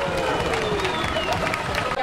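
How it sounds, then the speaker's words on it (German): Spectators cheer and applaud at the finish line of a soapbox derby race, a dense, steady wash of crowd noise with clapping and babble throughout. "Applaus bitte!"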